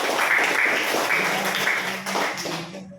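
Pupils in a classroom clap together in a brisk burst of applause that holds steady for about three seconds, then fades out at the end.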